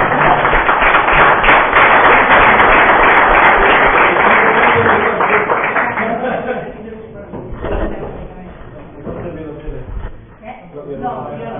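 An audience applauds at a live talk on values and basketball, a dense burst of clapping for about six seconds that then thins into scattered claps and room noise.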